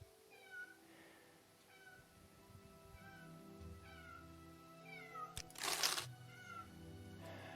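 Several cats meow repeatedly in rising and falling calls over a steady low background hum, with a brief louder burst of noise near the end.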